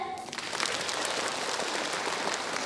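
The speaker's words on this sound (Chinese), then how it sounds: "热烈的掌声欢迎你们" Audience applause fills a hall at a symphony concert for the 60th anniversary of the Butterfly Lovers violin concerto: dense, steady clapping from a large crowd that holds evenly throughout, with no voices.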